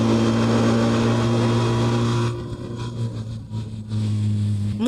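BMW R 1300 RT motorcycle running at high speed around 190, a loud sustained engine drone with steady tonal whine that dips midway then rises again, heavy wind noise throughout.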